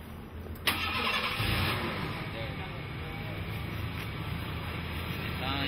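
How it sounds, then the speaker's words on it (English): A car engine is started remotely by an Arduino-based remote starter with no one inside the car: a sharp start transient near the beginning, then a steady running engine continuing to the end, fairly loud and close. "You can hear the engine running."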